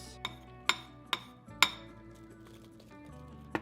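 Spoon clinking against a bowl while mixing vanilla vegan protein powder, four or five sharp metallic taps in an uneven rhythm, close and fairly quiet with no talking.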